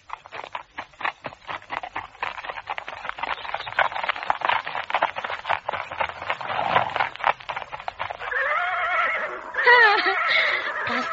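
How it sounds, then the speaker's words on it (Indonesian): Horses ridden by a girl and ten men in a radio drama: a long run of rapid clip-clop hoofbeats builds steadily, then loud whinnying neighs rise over the galloping toward the end, with no talk. "Juga semuanya menunggang kuda."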